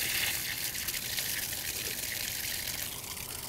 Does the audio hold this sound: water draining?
yes